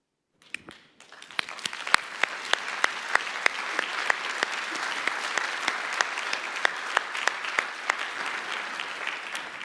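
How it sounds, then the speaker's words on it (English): A conference hall audience at a World Strategic Forum opening breaks into sustained applause, a dense, even roar of many hands with scattered sharper individual claps standing out, heard from a distance in a large room. "I hope you appreciate that round of applause."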